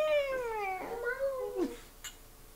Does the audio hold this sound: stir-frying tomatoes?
no